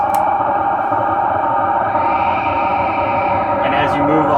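A Sonic Nightmare feedback looper with reverb produces a dense, continuous effected wash of noise and sustained tones, loud and unbroken for the whole stretch.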